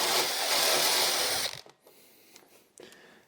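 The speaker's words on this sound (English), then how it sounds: "we're going to pre-drill just a little bit." A power drill whines loudly and steadily for about a second and a half while pre-drilling a hole in a Mitsubishi Outlander Sport, then stops abruptly, followed by a few faint clicks and handling noises.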